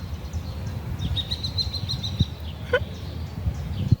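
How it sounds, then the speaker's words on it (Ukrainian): Short high chirps and a thin rising whistle from a small bird, fairly faint over a low, busy background rumble. "Чула як пташка. Цирінь, цирінька."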